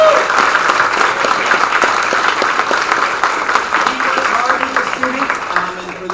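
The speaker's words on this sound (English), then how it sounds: "If we could give him a round of applause ahead of time." A school instrumental concert audience claps in a sustained burst of applause, dense and fairly loud and close. It tapers slightly toward the end while a voice speaks faintly underneath.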